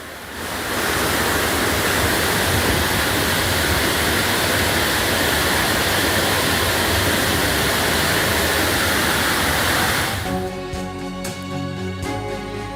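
Sirimane waterfall overflows in the monsoon rains with a loud, steady, broadband roar of cascading water that fills about ten seconds, then cuts to quiet music.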